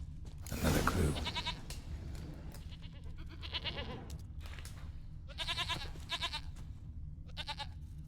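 Several goats bleat repeatedly in a video game, the calls coming in short separated bursts over a steady low background hum, with a louder sound near the start.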